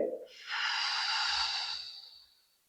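Breathing during a diaphragm breathing exercise: one long, close, breathy exhale or sigh swells, holds steadily for over a second, then fades away into quiet, with no talk over it.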